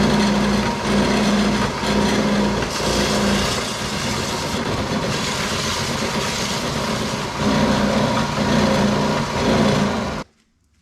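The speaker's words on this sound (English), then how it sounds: "put it in my table sander and sand it nice and straight" A table sander smooths and straightens a custom sheet metal hood molding, giving a loud, steady motor whine with grinding texture that pauses briefly midway, resumes, then cuts off near the end.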